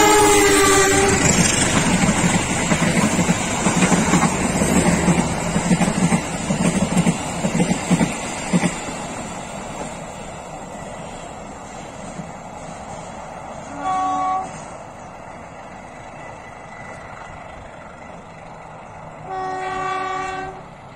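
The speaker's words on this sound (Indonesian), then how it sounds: "Kereta api Kuto Jaya Selatan semakin mendekat." Kuto Jaya Selatan passenger train approaching near Banjar, Indonesia, loud rolling clatter at first, fading, then separate blasts of its horn sounding later, alone without talk.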